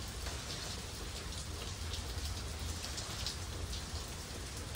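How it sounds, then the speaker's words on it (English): Heavy rain pours steadily in a dense, even hiss over a flooded street, with no voices over it. "look like the rain letting up, but the water flooding the street"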